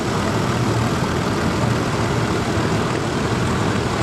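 Massey Ferguson 165 tractor running at an outdoor steam and craft show arena, a steady low engine drone with dense broadband rumble, continuous and fairly loud, no voices.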